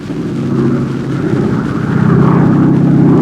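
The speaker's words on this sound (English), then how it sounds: "Taxiing at full throttle, the tow planes had to remain on the ground until the ton-and-a-half gliders were airborne." Military tow planes taxiing at full throttle give a loud, steady propeller-engine roar that swells slightly toward the end, with no voices over it.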